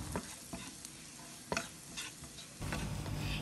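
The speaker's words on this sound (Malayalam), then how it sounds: "Garlic nannayittu namukku saute cheyyana to." Garlic and chilli flakes sizzling in a hot pan on the stove, with soft intermittent stirring scrapes over a low steady frying hiss, close and fairly quiet.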